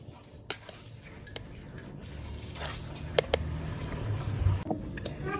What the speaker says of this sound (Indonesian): Aduk supaya tidak menggumpal pada saat diberi cairan.